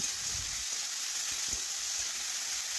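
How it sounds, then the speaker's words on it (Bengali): Vegetables fry in oil with tomato and ginger-cumin paste for a vegetarian dal, producing a constant hissing sizzle with a couple of soft stirring knocks, heard close and alone without speech. "টমেটো ও আদা জিরে বাটা একটু নাড়াচাড়া করে সবজি একটু ভেজে নিচ্ছি"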